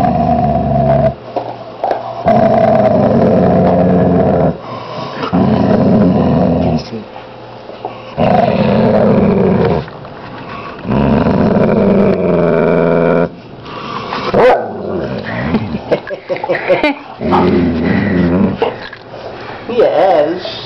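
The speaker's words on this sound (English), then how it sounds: "Maybe he'll growl." A shepherd dog growls in long, loud, close rumbling bursts separated by short pauses, with rougher snarling growls toward the end.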